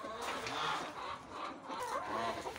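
Several backyard hens cluck and murmur in a continuous, moderately loud stream nearby, with no voices.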